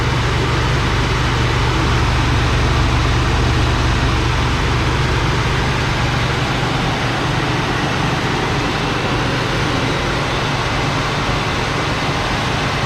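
A 1966 Ford Galaxie engine holds a steady fast idle, a loud, continuous low rumble with an even exhaust drone throughout and no talking.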